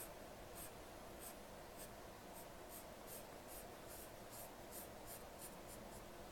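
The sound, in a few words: coloring in a drawn fraction model with a pen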